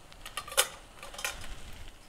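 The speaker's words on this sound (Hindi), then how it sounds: "अब मैं इसमें जो ये हमारा पैन है इसे रख दे रही हूँ" A metal baking pan set down inside a preheated pressure cooker: two light metallic clinks about half a second apart, faint and close, with a quiet room behind and no talking.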